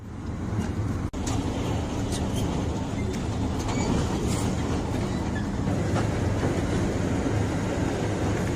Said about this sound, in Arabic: هنا فيديو للدبابات وهي بيجري تركيبها على القطار.